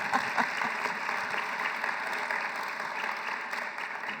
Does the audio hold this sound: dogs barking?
no